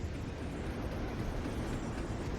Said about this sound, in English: A train? What's a Night City train doing behind a door?